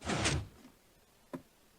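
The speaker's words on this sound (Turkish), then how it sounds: "Kapıyı açık tutayım da ne olur ne olmaz." A wooden door opens in a Minecraft game with a brief sliding creak, followed after a short pause by a faint single knock-like click.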